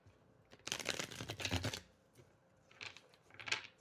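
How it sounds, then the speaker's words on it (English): Tarot cards being shuffled up close: a riffling burst of about a second, a pause, then two shorter, softer riffles, all quiet with no talking. "Let me do a good shuffle."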